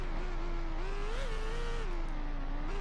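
A Formula 1 car in BeamNG.drive revs hard, its high engine whine rising and dipping steadily through a bouncy crash test, loud and continuous throughout.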